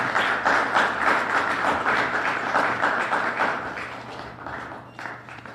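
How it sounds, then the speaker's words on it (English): Press conference audience applauding, steady clapping from a modest crowd that holds for several seconds before gradually thinning and fading, with a low background hum beneath. "Let's give Quadriella Men a round of applause."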